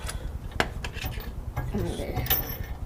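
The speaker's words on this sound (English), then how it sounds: "Okay, so we're gonna Wrench it." Metallic rubbing, scraping and ratcheting clicks come from a wrench being worked during an air spring install on a 2019 Chevy Duramax truck, close but fairly quiet with intermittent sharp ticks.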